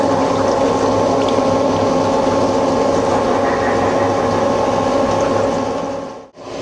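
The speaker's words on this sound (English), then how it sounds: "This is a hydraulic power pack that controls the pressure that this cylinder puts on the part." A hydraulic power pack on a Kinefac MC 10 machine runs with a steady, loud mechanical hum and whir that holds constant for several seconds before dropping away sharply at the end.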